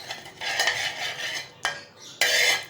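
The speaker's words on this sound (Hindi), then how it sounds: "ब्रश की मदद से लगा लें या किसी स्पून की मदद से आप यूँ करके लगा लें" A spoon scrapes and swirls oil around a pan for bread pizza made without an oven. Close, bright metallic scraping comes in several strokes with short breaks between them, and no one speaks.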